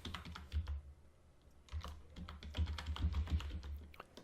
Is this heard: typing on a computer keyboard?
yes